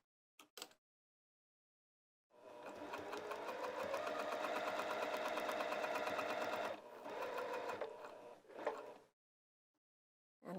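Sewing machine stitching lounge pants runs in one steady, close whirring burst of rapid needle strokes, pauses briefly, then resumes for a shorter run, with faint clicks before and after.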